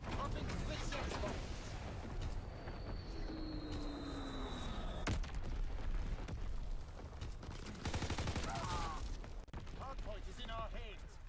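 Dense, continuous artillery and gunfire rumble with explosions from a Call of Duty Hardpoint match, loud and sustained, with voices and in-game radio chatter layered over the barrage.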